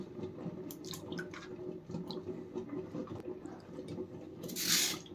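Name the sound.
cut potato sticks being dunked in water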